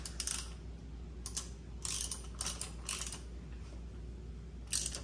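A ratchet snugs a new spark plug into a boat outboard motor, giving a few short, sharp clicking bursts spaced irregularly over a steady low hum, fairly close and moderately loud.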